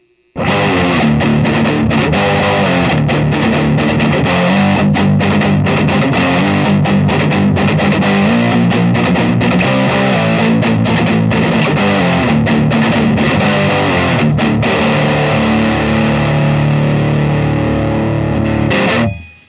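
A 2012 Gibson Les Paul electric guitar rings out loud and sustained through heavy distortion, with thick chords played continuously for almost twenty seconds before cutting off.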